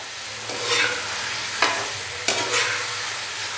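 Chicken fries in a pot for a white chicken pulao, a constant close sizzle broken by a few loud stirring scrapes, with no talking over it.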